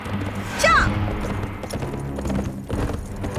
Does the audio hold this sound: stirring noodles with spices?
no